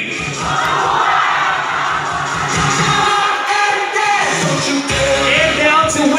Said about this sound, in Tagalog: sabay-sabay po tayong sumigaw ng mabuhay ang bagong kasal